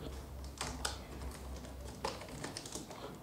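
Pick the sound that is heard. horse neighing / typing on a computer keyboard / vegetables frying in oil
typing on a computer keyboard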